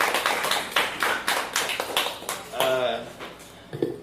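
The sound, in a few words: audience applause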